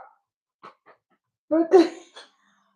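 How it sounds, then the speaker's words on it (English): A household dog gives a few short, soft whimpering yelps indoors, with a louder, drawn-out whine cluster near the end separated by brief silences. "My dog."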